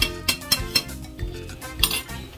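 Spoon stirring tomatoes for hot sauce in a pot, a handful of sharp metallic clinks and scrapes against the pot in an uneven rhythm, close and clear with no talk.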